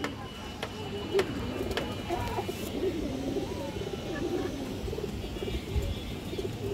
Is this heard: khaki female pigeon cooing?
yes